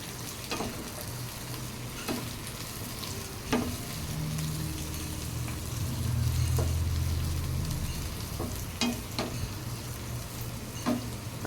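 Brinjal fries in coconut oil with kanthari chilies, a low steady sizzle at close range broken by sharp spoon clicks against the pan every second or two, with a brief louder bubbling patch midway.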